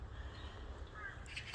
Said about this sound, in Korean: 까치 소리가 들리나요?